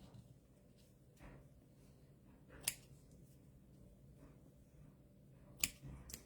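Scissors trim something a little shorter during grooming, giving two sharp close snips spaced a few seconds apart over a quiet room with faint rustling.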